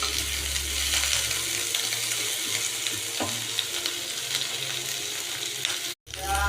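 Vegetables fry in a pan over a high gas flame, a steady broadband sizzle with stirring scrapes, loud and close, broken by a brief dropout near the end.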